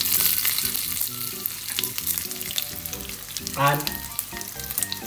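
Whole spices such as mustard seed, dried red chilli, mace, dry ginger and coriander seed fry and are stirred in hot oil for a crab fry, with continuous crackling sizzle, scraping stirs and a brief spoken word.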